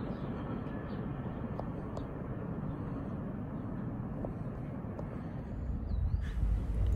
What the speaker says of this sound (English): The next train that I saw was NS20E with two aces.